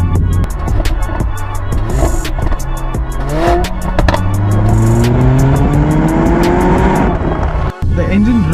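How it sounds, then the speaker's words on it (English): A 2020 Mercedes-AMG GLA45 four-cylinder turbo lifting off the throttle, its exhaust crackling and popping between revving pulls, loud and close, with a voice talking partway through. "And when you let go of the throttle pedal, it's like Diwali."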